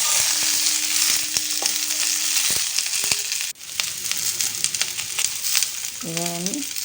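Ivy gourd (kundri) crackles and sizzles steadily in a hot pan, a bright continuous hiss broken by a few sharp clicks and short tonal chirps near the end.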